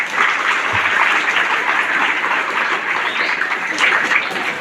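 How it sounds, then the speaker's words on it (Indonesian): Crowd applause at a Monday morning school flag ceremony, an even, continuous roar of many hands clapping at a steady loud level from start to finish. "Luar biasa, tepuk tangan."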